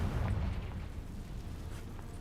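A Confringo spell explosion in a video game, a low rumbling boom that swells at the start and then fades into a steady, muffled roar.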